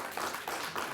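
Studio audience applause on a Belgian RTBF charity telethon broadcast, a brief steady patter of clapping lasting about a second with no voices over it.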